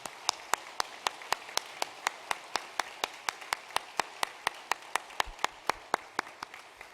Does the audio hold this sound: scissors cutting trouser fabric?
no